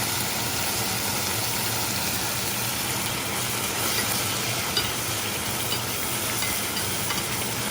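Beef stir-fries in a wok for Vietnamese bun bo xao, giving a steady, even sizzle and hiss that holds at moderate loudness throughout, with no talking.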